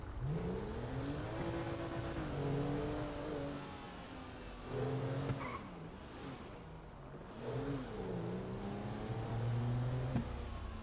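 A car engine in Grand Theft Auto 5 hums and revs steadily, pitch rising and falling through gear shifts, with a synthetic, game-like quality and no talking.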